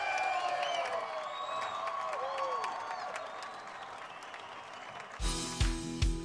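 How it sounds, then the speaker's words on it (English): Crowd at a European truck racing championship round at Slovakiaring applauds and cheers a race-winning Iveco driver; distant, diffuse clapping and whoops with tonal whistling fill most of the stretch before a sharp switch to louder, different sound near the end. "Deserved applause for the Iveco pilot"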